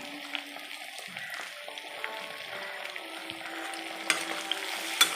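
Green chilies and ginger fry in a pan, a soft steady sizzle with scattered pops and occasional scraping stirs, faint and close, no one talking.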